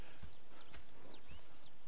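Horses in the video game Red Dead Redemption 2 clip-clop with a few soft, uneven hoof thuds, faint and close, with no talking over them.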